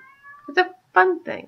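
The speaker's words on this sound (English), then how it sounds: "That's my cat. I'm sorry. She wants to go out." A pet cat meows twice, loud and close, wanting to be let out, with someone speaking just before the calls.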